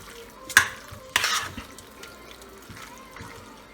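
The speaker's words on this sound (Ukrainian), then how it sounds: "Так, я зараз перемішаю." Marinated raw fish being stirred in a bowl for a fish khe dish: a couple of short, soft scraping and wet clinks, the second a little longer, followed by quiet handling in a still room.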